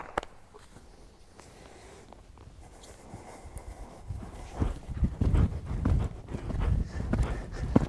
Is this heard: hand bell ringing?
no